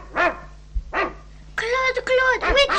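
Dog barking on a French children's vinyl record story, Le club des cinq et les saltimbanques: two separate barks, then a longer run of close, loud yapping, with speech alongside.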